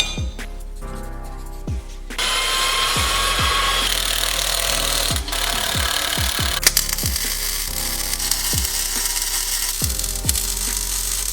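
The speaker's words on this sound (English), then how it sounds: "I got this mount traced out, so it's ready to be cut." Hand saw cutting steel plate for a skid plate mount on a Jeep TJ Wrangler, a steady rasping stroke rhythm repeating close up, loud and continuous with no talking.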